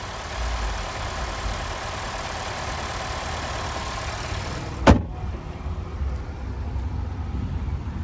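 A 2021 Nissan Altima SR's 2.5-liter engine runs at a steady idle, a continuous low hum with one brief sharp knock midway, like a hood or door being shut, and no talking.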